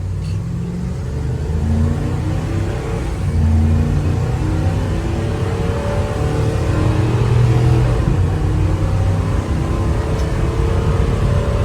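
A 2016 Ford E350 box truck accelerates on a straight country road, its engine droning steadily and rising in pitch with a sustained, loud cabin rumble and no talk.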